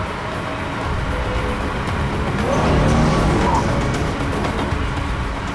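A car drives fast on the road, a loud continuous engine roar that swells near the middle, with faint tire noise and no clear talk over it.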